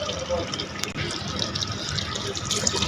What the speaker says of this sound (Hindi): ये इसमें 1 लीटर पानी डाल दिया हमने